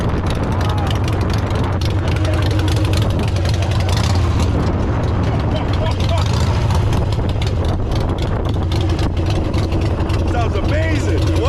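Harley-Davidson Street Glide trike conversion idling close by in a steady low rumble outdoors, with people talking and congratulating each other over it.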